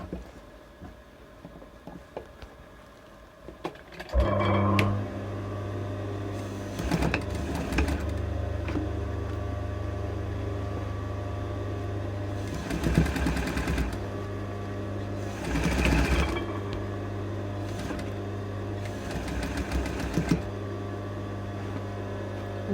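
A sewing machine runs across the top of a strapless dress lining in several bursts of steady mechanical humming and whirring, separated by short stops, fairly close, over a constant low room drone.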